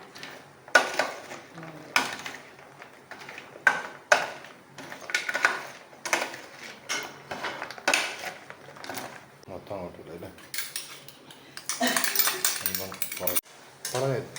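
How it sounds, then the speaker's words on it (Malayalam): A spoon clinks and scrapes against a bowl in repeated bursts, mixing in ground dry ginger and cumin, a steady rhythm up close, busier toward the end. "ചുക്കും ജീരകവും പൊടിച്ചത് ചേർക്കാം നന്നായിട്ട് മിക്സ് ചെയ്യാം"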